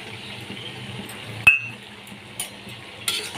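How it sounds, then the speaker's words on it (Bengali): Hilsa fish heads are stirred into spiced oil in a cooking pan, a quiet sizzle under sharp metallic scrapes and clinks of a spoon against the pan, three distinct knocks spaced across a few seconds. "ভালো করে এবার মাথাগুলোকে এর মধ্যে মিশিয়ে নিতে হবে"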